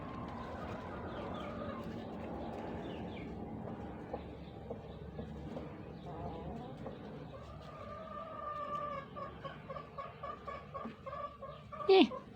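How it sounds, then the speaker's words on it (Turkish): Chickens in a backyard coop cluck and squawk near the microphone, their calls growing more frequent toward the end, while someone talks softly over them. "Benim tavuklarım biraz vahşi"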